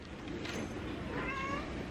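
A cat meows indoors, quiet and somewhat distant, with a couple of short calls rising over a steady background hum.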